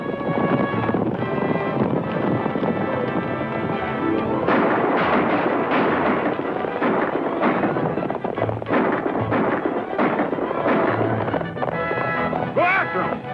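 Gunshots crack during a 1942 western shootout in the film South of Santa Fe, loud repeated reports mixed with hoofbeats, music and shouting voices.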